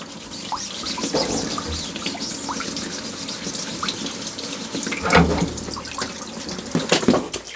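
Running water splashes as a screen printing film is rinsed under a tap, with a steady close wash and louder gushes near the end, no talking.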